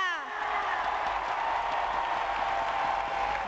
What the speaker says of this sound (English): a particular cheer going up there from all the Spanish young people